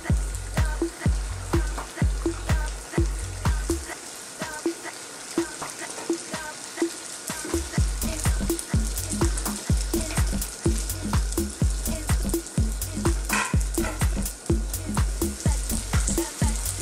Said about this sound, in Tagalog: Kaya konti-konti lang po ang pa-fry ng ating chicken spring roll.